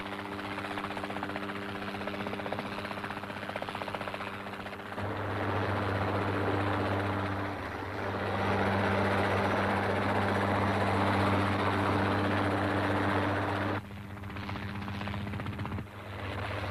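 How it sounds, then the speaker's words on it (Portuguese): A helicopter ferrying 30 tonnes of material and crew ashore to Clipperton Island makes a loud, continuous rotor drone with a steady humming tone. It swells slightly midway and eases off near the end. "30 toneladas de material e a tripulação são levadas à terra por helicóptero"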